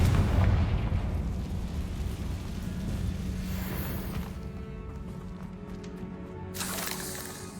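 A Confringo blasting spell goes off in Hogwarts Legacy inside an abandoned tomb, a loud booming blast up front that rolls into a rumbling decay with scattered debris crackles, and a second sharper burst near the end.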